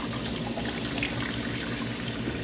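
Tap water runs and splashes over parsley and vegetables being rinsed in a kitchen sink, a steady close rushing flow with no talk.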